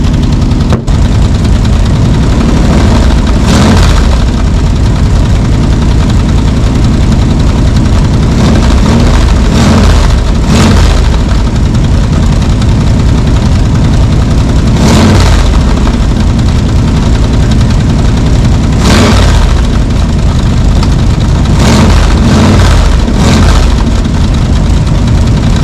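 A 1964 Ford Falcon Sprint engine idles and warms up, a loud, close, steady low rumble with several brief surges of revving.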